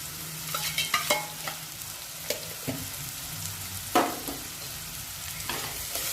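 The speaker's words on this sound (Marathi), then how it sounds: "मला छान तेलात परतून घेऊ." Grated coconut, poppy seeds, sesame and crushed peanut powder sauté in hot oil with a soft steady sizzle, punctuated by several sharp scraping stirs of a spoon against the pan, close and without talk.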